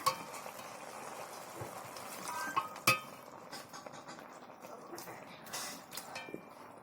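Prawns stirred with water spinach in a pan, with soft scraping and clinking of a utensil against metal, a few sharper knocks, and faint sizzling, all fairly quiet, with occasional talk.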